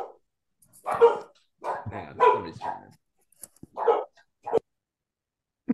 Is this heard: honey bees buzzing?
no